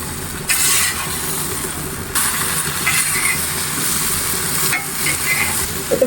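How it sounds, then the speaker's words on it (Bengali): Cauliflower and potato stir-fry in a spice paste, giving a close sizzle under repeated scraping strokes of a spatula in the pan. The stirring comes in several distinct bursts, and no one speaks. "ফুলকপি আলুটা আমি মশলার সাথে খুব ভালো করে কষিয়ে নেব"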